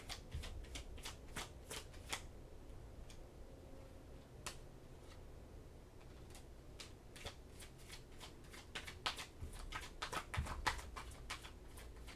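Tarot cards being shuffled in repeated crisp riffles and snaps, close and fairly quiet over a low background rumble, with no talking.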